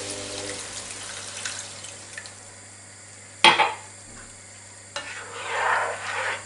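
A glass of water poured into a pan of lamb offal cooking on the stove, a sharp splash followed by hissing sizzle and bubbling, with a second burst of sizzling moments later, quiet and close.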